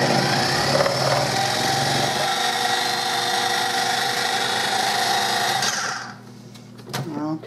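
Food processor grating biscuit dough, a loud steady high-pitched motor whir with rattling, running about six seconds before stopping abruptly, followed by brief clatter.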